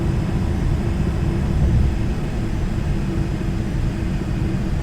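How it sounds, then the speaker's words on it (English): A McDonnell F3H Demon jet landing in Flight Simulator X, a continuous broad roaring rumble of engine and airflow that holds steady and loud throughout, with no voices. "let's try to land this plane"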